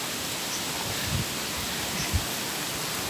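Strong river current rushes beneath a bridge in Sayao, Mogpog, Marinduque during Typhoon Rolly, a steady broadband roar filling the whole clip with a couple of faint low thumps.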